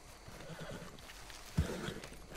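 A horse whinnies in Red Dead Redemption 2 over a steady low background rumble, with a sharp thump partway through and faint hoof clip-clops.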